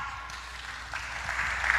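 A church congregation applauds during a sermon, steady clapping that swells gradually and grows louder toward the end, with no voices over it.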